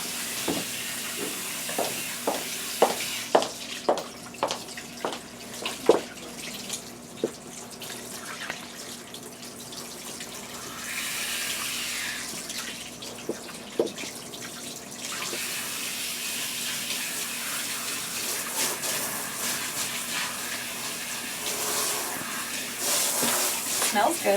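Cool tap water runs over hair being rinsed, a steady splashing hiss with scattered clicks and knocks, while people talk intermittently.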